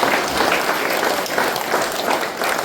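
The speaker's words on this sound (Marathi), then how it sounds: "टाळ्या वाजवत आपण देवाचा गौरव करूया." A church congregation claps together in praise, a dense, sustained wash of applause at steady loudness filling the whole moment with no pauses.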